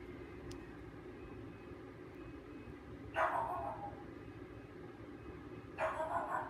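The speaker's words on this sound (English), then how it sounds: "I'm sorry if you can hear Misha barking in the background" A pet dog barks in the background of a room, two short bursts of barking a few seconds apart, moderately loud over a quiet, steady room hum.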